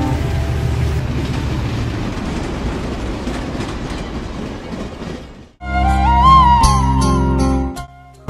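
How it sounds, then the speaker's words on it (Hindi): A passenger train bound for Nanded rumbles steadily over the rails with rhythmic clickety-clack, then a louder section follows with screeching, squealing wheels and a deep hum, close and continuous. "आपल्याला नांदेडला जाण्याकरता ट्रेन लागलेली आहे।"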